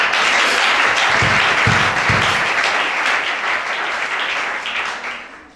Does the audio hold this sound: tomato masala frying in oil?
no